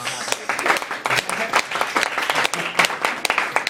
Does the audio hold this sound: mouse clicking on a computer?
no